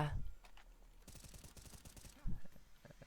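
Rapid gunfire in Garry's Mod, a run of quick shots from about one to two seconds with a few scattered pops around it, moderately loud, with voices briefly at the start and near the end.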